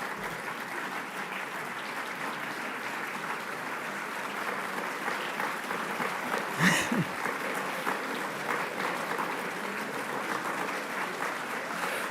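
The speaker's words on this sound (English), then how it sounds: "I'm glad you're clapping and that you're not depressed" Audience applause following a political speech about government transparency, steady sustained clapping from a crowd filling the whole stretch at an even level.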